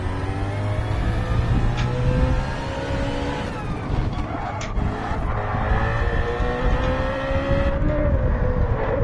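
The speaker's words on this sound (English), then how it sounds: "Does sound pretty cool though, that BMW." A BMW race car engine revs hard on a track during a testing session, loud and continuous with rising and falling pitch as it accelerates and shifts, plus brief tire noise.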